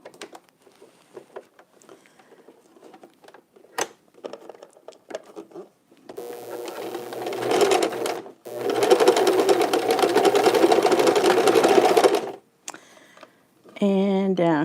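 A home sewing machine stitches a fabric hospital face mask in two sustained runs of steady whirring, the first starting after quiet handling noises and the second following a short pause, with brief fabric rustling before and after.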